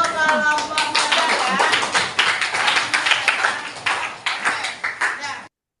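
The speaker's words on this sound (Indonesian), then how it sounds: "tepuk tangan untuk kelompok modal" Teachers in an Indonesian classroom-practice session applaud a group, giving a close, lively burst of clapping with distinct sharp hand strikes, opening under a voice before the clapping carries on alone and stops abruptly.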